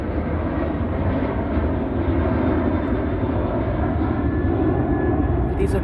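A United Airlines airplane's engines roar steadily and loudly throughout, a constant broadband drone with no pauses or other sounds standing out.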